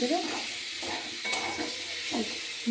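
Food sizzles in a pan close by, with soft scraping stirs and brief clatters over a steady hiss.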